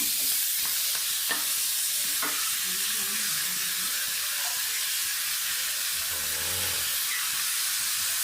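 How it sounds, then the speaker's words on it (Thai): Tough Chinese kale stems stir-fry in a hot pan for a salted-fish dish, a loud continuous hiss and crackle with occasional scraping taps of a spatula and no voices. "เอาส่วนที่เป็นลำต้นนะครับ ที่แข็งๆหน่อยเนี่ย ลงไปผัดก่อน"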